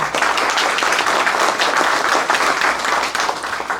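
A crowd at a Congressional Gold Medal presentation ceremony in Simi Valley applauds the mayor, a loud, dense and continuous burst of clapping from many hands throughout.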